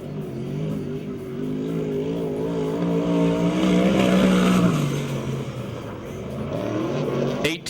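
Sprint car on a qualifying lap at Perris, California, its engine roaring steadily with revs rising and falling through the turns, loud and close, fading sharply at the end.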